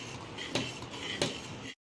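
A spoon clinks twice against a metal pot while scraped coconut is mixed into sago payasam, two short bright knocks over a faint steady background hiss.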